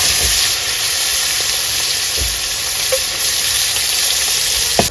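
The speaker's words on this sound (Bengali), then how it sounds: "ও দেখো একদম মাছ ভাজা মাছ ভাজা হয়ে গেল তো" Fish frying in a pan over a wood fire outdoors in the Sundarban jungle, a steady loud broadband sizzle running the whole time with a few soft low knocks and no talking.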